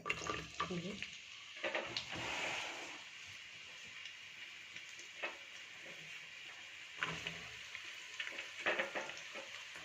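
Chopped onions sizzling in hot oil in a pan, a soft crackling fry broken by occasional stirring scrapes and clinks, quiet and close, with faint talk in the background.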